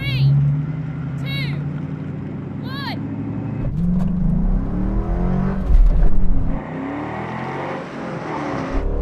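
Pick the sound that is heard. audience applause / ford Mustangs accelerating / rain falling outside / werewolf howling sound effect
ford Mustangs accelerating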